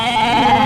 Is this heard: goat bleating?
yes